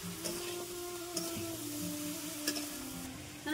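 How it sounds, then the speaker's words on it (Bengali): Turmeric and salt stirred into a vegetable chorchori in a pan, giving a low steady sizzle with a few soft scrapes spaced through it, close but quiet, no voices. "এবার ভালো করে নাড়াচাড়া করে মিশিয়ে নেব।"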